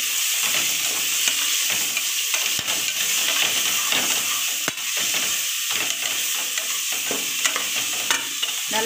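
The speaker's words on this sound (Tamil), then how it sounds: "நல்லா பொன் நிறமாக வர வரலையும் வறுக்கணும்." Sliced onions fry and crackle in a pan on the way to a chicken biryani, a dense continuous sizzle close up with occasional sharp spatula clicks and stirring scrapes, and no voices.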